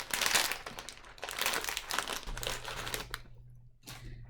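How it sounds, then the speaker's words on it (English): Plastic snack packaging crinkles and crackles in close, irregular bursts as someone struggles to open a small bag, with a low hum entering partway through. "I can't really get into this little packaging."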